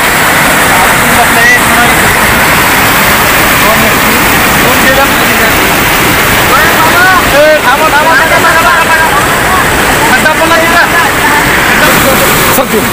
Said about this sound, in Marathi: पुलावरून जवळपास कमरेच्या वर पाणी जात आहे